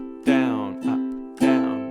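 Guitar strings strummed slowly with muted strings and no chords, using a sweep technique, giving three close scratchy strokes that ring briefly, the first and last strongest.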